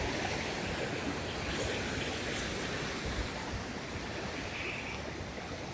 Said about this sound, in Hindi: पानी के वेग और आवाज दोनों को देखकर रूह कांप जाती है।